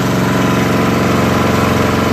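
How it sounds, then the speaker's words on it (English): A small lawn mower engine, one of a Troy-Bilt, Craftsman or Yard Machines flip project, idles steadily and loudly up close with an even low throb and no one talking. "Never met a mower I couldn't start."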